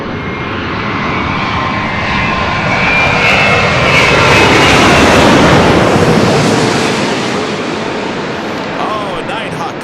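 Airliner jet engines roaring at LAX airport, a loud, sustained broadband rumble that swells and fades slightly as the plane passes, with faint radio chatter underneath.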